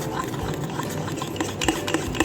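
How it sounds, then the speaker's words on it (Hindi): Spoon stirring chocolate mug cake batter of flour in a mug, a close, steady scraping and rubbing with light clinks against the mug's sides, repeated quickly with no talking. "मिक्स करेंगे।"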